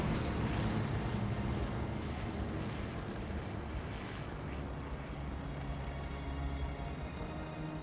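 Steady droning airplane engine in flight in the World War II shooter Call of Duty Vanguard, a dense, even roar with low rumble holding unchanged throughout, loud and close with no voices.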